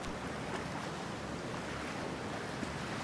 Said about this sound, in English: Whew, freezing ass water,